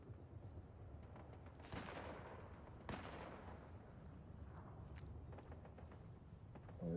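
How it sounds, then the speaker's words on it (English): Distant gunfight in the video game Fortnite, a few sharp gunshot cracks and short bursts popping faintly over a quiet background. "they're having a gunfight over there"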